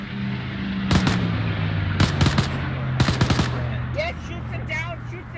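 Gunfire in the video game Arma 3, set among WW2 British commandos: a low engine-like drone carries sharp bursts of rapid automatic shots at about one-second spacing, ending in a quick flurry, with voices talking.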